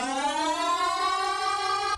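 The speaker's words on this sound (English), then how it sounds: "this one's called Cloud, and it's really kind of like an insane comb filter" Bass synth processed by Phase Plant's Cloud comb filter table, a bright, buzzing sustained note with many stacked ringing overtones drifting gently down in pitch, held for about two seconds and then stopping sharply.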